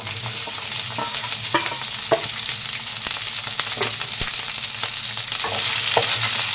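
Shallots and bitter gourd sauté in a pan, a loud continuous sizzle broken by repeated scraping stirs and occasional spatula taps.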